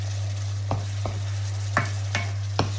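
Cooked squid mekus mekus stirred in a pan, with about five distinct scraping strokes of the utensil against the pan over a steady low hum and faint sizzle.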